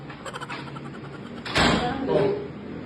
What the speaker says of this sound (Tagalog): Bagsak mo yung pintuan para may ulo mo.